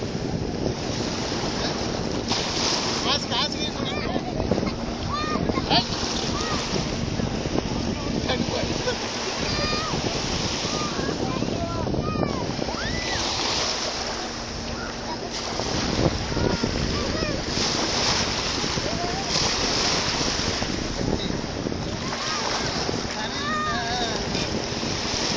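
Waves break continuously at a sea shore, with gusty wind buffeting the microphone and people's voices scattered throughout.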